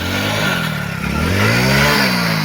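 A 2020 model motorcycle's engine revs hard as it is ridden into a pond, a loud, rising and falling mid-pitched roar with clattering, dipping briefly then climbing again.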